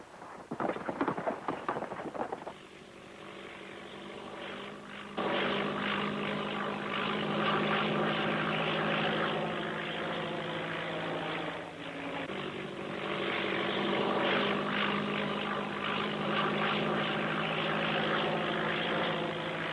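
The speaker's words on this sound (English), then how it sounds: "where's this plane coming from? From Los Angeles." A propeller airplane drones overhead in a sustained, loud engine roar that starts after a few seconds of rattling, dips briefly near the middle, then swells again.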